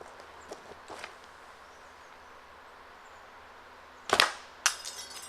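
A Christmas tree ornament strikes a block of ballistic gelatin and bounces off, giving a couple of sharp, brief cracks and knocks near the end after quieter small taps and rustles, close and fairly loud against a quiet background.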